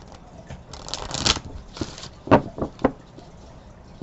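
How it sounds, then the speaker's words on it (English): Cards being shuffled up close: a riffling burst followed by a few sharp flicks and taps, with quiet pauses between. "One more shuffle."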